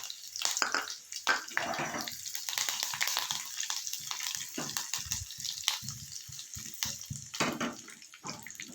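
Dry red chilies sputter in hot oil with mustard seeds and curry leaves, a tempering for raw mango chutney; steady close crackling and frying hiss with sharp pops scattered throughout.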